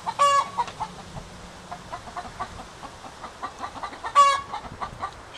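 Backyard chickens cluck softly and steadily nearby, with two louder, sharper squawking calls standing out at the start and near the end, close and clear.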